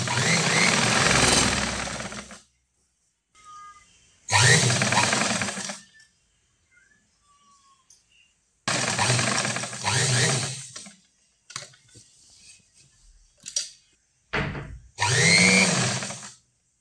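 Electric sewing machine running a seam on fabric for semi Patiala pants, in loud whirring bursts of about two seconds each, separated by quiet pauses.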